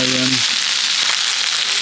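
Food sizzling in a frying pan over medium-high heat at a campsite in France; a close, steady crackling hiss, with a short low hum at the very start.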